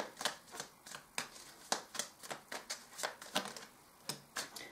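Tarot cards being shuffled and drawn, a series of quick riffling and snapping card sounds in an irregular rhythm, close and fairly soft, with no voices.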